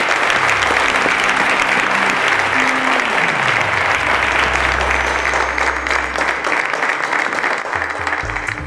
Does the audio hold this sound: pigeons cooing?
no